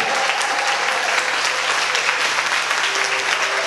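A church congregation applauds together to acclaim God. The clapping is loud, dense and steady, with no break for the whole stretch.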